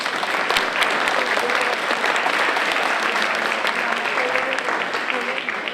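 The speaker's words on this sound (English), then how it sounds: "I want a round of applause for those presenters" A conference audience claps for volunteer presenters, dense continuous applause at a steady level throughout, with faint voices mixed in.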